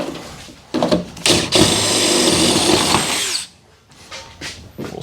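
Power drill boring into the metal of a 1957 Chevy hardtop, a few short bursts, then a loud sustained whine for about two seconds that stops abruptly, followed by brief trailing spurts, close up.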